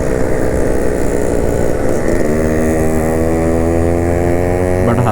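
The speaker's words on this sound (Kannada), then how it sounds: "ಈ ಸೌಂಡ್ ಕೇಳಕ್ಕೆ ಎಷ್ಟೋ ಮಸ್ತ್ ಅನ್ಸೈತಿ ಯಮಹ ಆಲ್ವೇಸ್ ರಾಜಾನ" A Yamaha motorcycle on a group freedom ride runs close and loud, its buzzing engine note dipping briefly, then settling into a steady drone with a small rev blip at the end.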